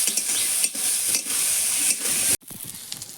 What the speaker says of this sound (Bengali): আমি একটু ভাজা ভাজা করে নেবো। খুব বেশি ভাজবো না, একটু মাঝারি ভাজবো।